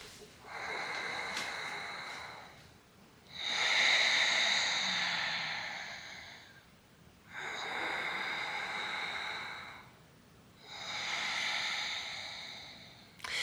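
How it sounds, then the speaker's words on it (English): Slow, audible ujjayi yoga breathing through a constricted throat, with a hissing, ocean-like rasp, four long drawn breaths close to the mic, each followed by a brief pause. "Ujjayi breathing is the ocean breathing of yoga."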